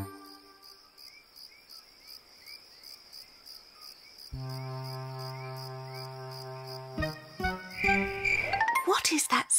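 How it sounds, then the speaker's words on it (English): Crickets chirp in a dark tent at night in an animated children's cartoon, a steady rhythmic trill running throughout, joined midway by a sustained musical tone and ending in a brighter jingling flourish. "It's only the crickets," whispered Miffy. "They always chirp at night."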